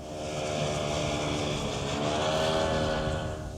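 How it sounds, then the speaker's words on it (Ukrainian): A boat motors along the Dniester river, heard as a steady, continuous engine drone at moderate distance that holds throughout without a clear pass-by swell. "Там човен пливе."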